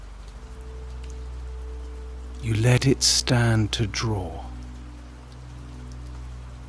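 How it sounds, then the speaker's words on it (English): Steady rain and storm patter against old cottage window glass, a soft continuous drumming throughout, with a voice speaking briefly over it midway. "the storm has thrown itself against the glass again"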